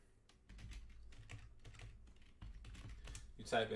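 Quiet typing on a computer keyboard, a quick irregular patter of key clicks at close range that grows slightly louder toward the end, with a brief voice near the finish.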